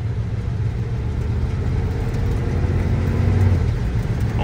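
Engine of a vehicle on a test drive, running steadily with a low droning rumble and a slight pitch change near the end as it shifts gears; close, continuous and fairly loud, with no talking.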